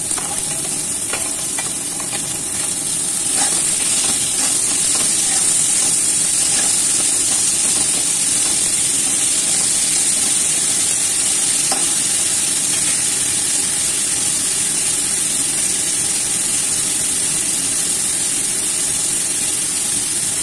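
Carrot slices frying in hot oil in a pan while cooking a Bengali crab and carrot curry; steady, loud, close sizzling hiss throughout with faint stirring scrapes, no talk.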